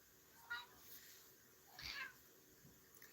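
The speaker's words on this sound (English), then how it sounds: "My cat said good morning to you guys." House cat meowing two short times, once briefly and then a longer meow about a second later, faint and close in a quiet room.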